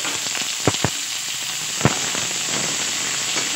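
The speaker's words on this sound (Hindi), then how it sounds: "केवल हम जीरा का फोड़न देंगे" Cumin seeds tempering in hot oil crackle in a constant close sizzle, punctuated by a few sharp pops, with no one speaking.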